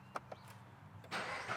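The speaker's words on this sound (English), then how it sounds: "see just how different this axleback sounds compared to the OEM, starting with the cold start" A Subaru BRZ with an aftermarket axleback exhaust cranks briefly with a few clicks and starter whirs, then catches into a rising cold-start roar, close and moderately loud.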